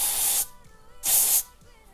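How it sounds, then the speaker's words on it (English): Hairspray misted over freshly styled curls on a textured wavy lob, two short, loud, close bursts of aerosol hiss, each about half a second, separated by a brief quiet pause. "And then I'm going to take a little bit of hairspray"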